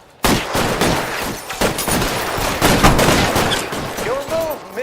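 Gunfire from a shootout in the video game L.A. Noire Remastered crackles in dense, overlapping bursts, loud and close, with shots rapidly stacking over one another for several seconds alongside faint game voices.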